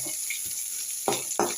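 Onion sautés in a pan for rava kichadi, a steady soft sizzle with a few sharper clicks of stirring against the pan, close by and with no talk.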